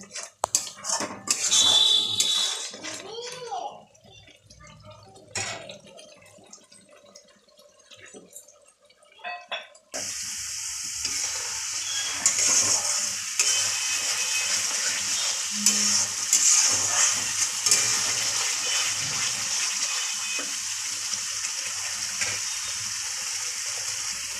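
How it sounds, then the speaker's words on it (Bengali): Spice paste fries and gets stirred in a pan for a pabda fish curry. Scattered clinks and scrapes come first, then a loud, steady sizzle with spatula strokes that continues to the end. "এবার মশলাটাকে আমি ভালোভাবে কষিয়ে নেব"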